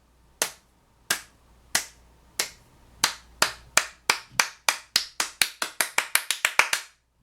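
Sharp, crisp claps ring out alone in a quiet space, starting slowly and speeding up into a quick run of about twenty.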